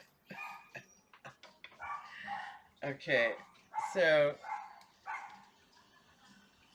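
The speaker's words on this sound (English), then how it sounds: "sorry, the dog barking." A dog barks and yips in short bursts close by, mixed in with a person talking during a tarot reading.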